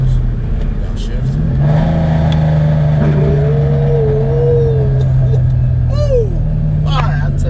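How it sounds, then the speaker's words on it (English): A Ford Mustang GT on drag radials in the rain revs steadily from inside the cabin with a continuous engine drone that rises and wavers on a downshift, while a voice talks over it. "Downshift."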